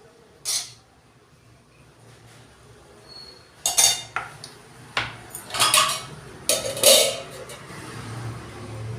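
Plates and steel utensils clink and clatter while an abai bean pod vegetable dish is served out, a few light knocks early and then a busier run of close clinks and scrapes with no talk.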